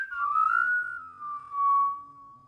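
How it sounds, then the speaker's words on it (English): A man whistles a single sustained, wavering note that slides gently downward and then holds steady, close and clear against near silence, an eerie sound in a scary story. "Then he whistled."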